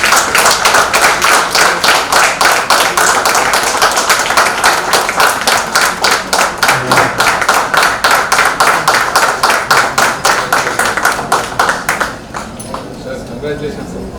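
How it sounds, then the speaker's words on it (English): Audience at a psychiatry conference in Nizamabad claps loudly in a fast, regular rhythm for about twelve seconds, then the clapping drops away to quieter room sound and talk. "Give a big round of applause."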